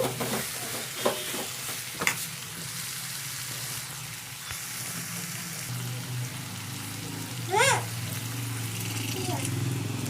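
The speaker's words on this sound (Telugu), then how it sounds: "ఇప్పుడు తగినన్ని నీళ్ళు అయితే పోసుకుంటాను" Water poured into a sizzling brinjal and raw mango curry in a pan, a continuous frying hiss with a few stirring knocks, close by, and a brief voice near the end.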